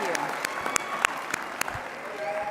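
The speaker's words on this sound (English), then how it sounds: "And let's give all of our speakers this morning a round of applause." A conference audience at a world convention opening session claps for the morning's speakers, a moderate wash of applause with a few sharper individual claps standing out, steady throughout.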